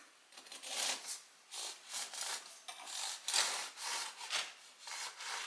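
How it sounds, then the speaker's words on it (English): A knife saws through hard-crusted loaf baked in a bread maker, with rhythmic back-and-forth rasping strokes, roughly ten of them, close and crisp, with no talking. "We're going to cut the bread. You can see how nice and hard it is. Give a nice cut."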